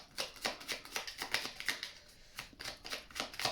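Oracle cards from a mirror oracle deck are shuffled and drawn by hand, making quick, rhythmic papery riffles and flicks in close, quiet bursts with a brief pause midway.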